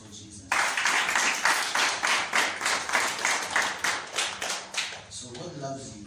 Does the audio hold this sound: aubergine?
no